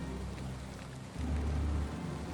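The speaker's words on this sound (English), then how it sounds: "I wish this rain would let up" Steady rain in the Valheim video game, a dense continuous hiss with low rumbling undertones that swell briefly midway, heard alone without voices.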